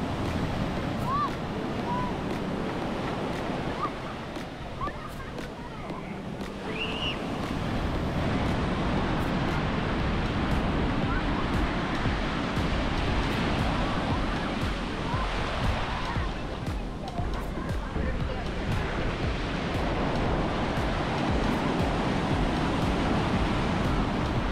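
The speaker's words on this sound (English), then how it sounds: "We have the beach area." Steady ocean surf washes ashore at an all-inclusive resort beach in Punta Cana, a continuous roar of waves with wind buffeting the microphone throughout, loud and unbroken, with no voices.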